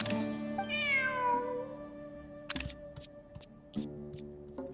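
A video game cat in Genshin Impact gives a drawn-out, rising meow over a steady background hum, followed by a couple of sharp clicks.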